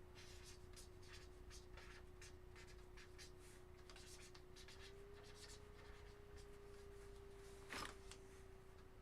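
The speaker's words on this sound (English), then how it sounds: "Let's see me writing here." A pen scratches across paper at a workbench, with quiet strokes repeating in a loose rhythm over a steady low hum, and a sharper scribble near the end.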